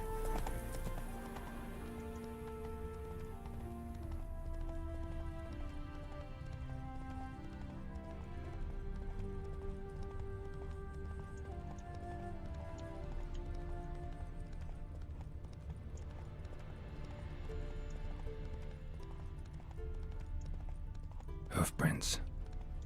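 Hooves of the horse Roach clip-clop steadily in a video game, with occasional neighing over a soft musical score and a quiet voice, ending in a brief burst of noise.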